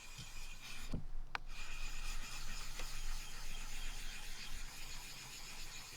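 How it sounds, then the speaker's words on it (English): A Nagura stone is rubbed back and forth on a wet whetstone to work up a slurry for knife sharpening, making a soft, continuous gritty scraping that stays fairly quiet and close throughout. "the way you use this is to create a slurry on top of the stone, and it's the slurry which is abrasive and actually polishes the blade"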